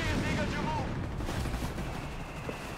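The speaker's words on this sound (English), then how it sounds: "That section is getting utterly ripped apart here by the 150mm guns there of the Sturm Panzer 4." Sturmpanzer IV 150mm guns firing artillery in Company of Heroes 3, heard as dense, rumbling battlefield gunfire and blasts at low level, with a commentator talking over it.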